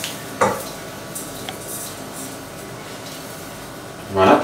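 Crushed cakes are stirred into melted butter in a bowl, soft scraping and clinking with a couple of sharper knocks at start and end, steady quiet background.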